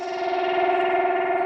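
A turkey sample turned into a sustained, buzzy synth tone in Ableton Live, held steady under a phaser and reverb effect with a fast rippling pulse, loud and unbroken throughout.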